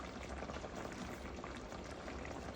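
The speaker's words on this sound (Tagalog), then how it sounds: "Kumukulo na siya." Chicken stew with tomatoes bubbling in a pot on the stove, a continuous soft boiling simmer with dense small pops, faint and steady without talking.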